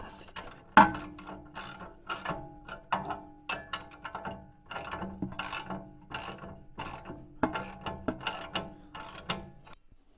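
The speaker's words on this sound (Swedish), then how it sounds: "Så vi bara drar åt det lite grann så det sitter." A ratchet tightens bolts on the front suspension of a Volvo 240 Turbo in a cluttered garage, with bursts of rapid clicking repeated in short runs close up and a sharp knock near the start.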